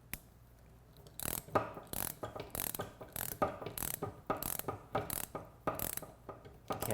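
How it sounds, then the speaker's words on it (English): Wrenches, a 17 mm and a 15 mm, tightening down a motorcycle fork during a fork seal job, giving a series of quick metallic ratcheting clicks in an irregular rhythm, close and fairly loud, with no talking. "take your 17 millimeter and your 15 millimeter wrench"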